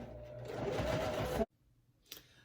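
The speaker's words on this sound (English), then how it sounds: "we're going to walk it down a little bit, and then we're going to back stitch" A domestic sewing machine stitches a wallet in a steady, close whirring run for under a second and a half, then stops abruptly, leaving near-quiet with a faint soft bump afterward.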